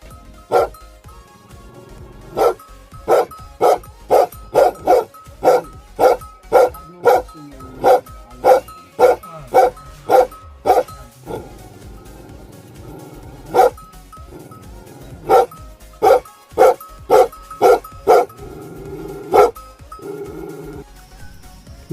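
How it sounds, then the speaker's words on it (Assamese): A dog barks loudly and repeatedly in a steady, evenly spaced series of sharp barks, with a few brief pauses between runs. "অসমীয়াত কুকুৰ"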